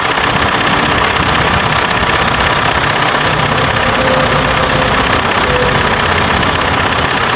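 Engine of a 2010 Ford Everest running after an ECU replacement; a steady, loud close idle with a dense rumble and faint rhythmic knocking, unbroken throughout.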